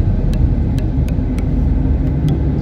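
A car driven along a road during a practice drive between Pililia and Angono, Rizal, with a steady, loud engine and road rumble throughout and a few faint ticking clicks, likely a turn signal, over the top.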